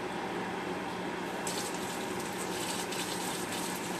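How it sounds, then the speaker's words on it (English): Water from a tap runs steadily over a fish being rinsed during cleaning for a fish fry, a constant gushing hiss with a slightly brighter splashing texture partway through, fairly quiet and with no talk. "So we'll rinse this as we're doing this"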